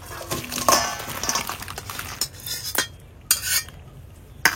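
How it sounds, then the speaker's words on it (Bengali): Cooked ash gourd and crab curry is emptied from a pot, with a scraping ladle, metallic clinks and knocks of utensils against the vessel, and soft wet slops in short bursts up close. "মা এখন তরকারি ঢেলে নিচ্ছে"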